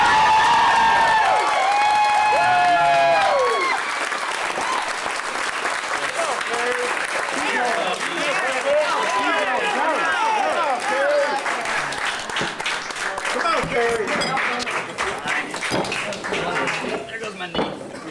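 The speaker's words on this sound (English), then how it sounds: "Amazing burst of applause." A room applauds an award given to Team Outlaw at a short-film awards event. The loud, dense clapping swells and holds, with cheers scattered through it and a voice speaking over the start.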